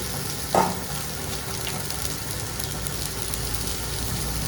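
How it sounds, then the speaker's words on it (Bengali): Dal frying in a pan during Bengali home cooking gives a steady, even sizzle, with a brief clatter of stirring early on and no one talking. "এবার এটাকে ভালো করে একটু ভেজে নেব।"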